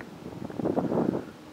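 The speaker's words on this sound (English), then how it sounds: "Might be a tiny bit windy, I'll just step outside a moment and show you." Wind gusts outdoors on a rural morning by harvested fields, a brief buffeting rush that swells and fades against the microphone, moderately loud, with no talk.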